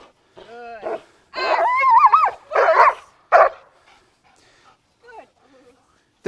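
A 22-month-old protection-trained dog gives a few barks and yips while gripping a bite jacket during multiple-helper training, the sounds close and loud and mixed with talk between the bursts.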